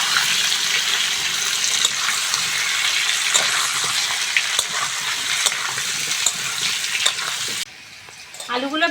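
Potatoes fry in hot oil in a pan with a loud, steady, close sizzle that runs unbroken for several seconds, then drops off abruptly as stirring clatter briefly follows.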